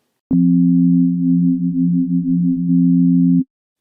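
A low sine-wave note from the Pro Tools PlayCell synth, with modulation added, holds steady for about three seconds, gently wobbling, after a sharp click onset, then stops cleanly with no voices.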